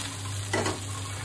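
Onions and potatoes frying in a little oil in a pan, a soft steady sizzle with one brief stir of a spatula scraping through midway, quiet and close.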